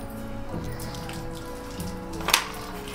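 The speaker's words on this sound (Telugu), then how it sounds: "ముందుగా మనము ఆవాలు వేసుకుందాం" Mustard seeds splutter in hot oil, giving a soft, steady patter of tiny crackles like light rain, with a sharper burst of pops near the end. No voices.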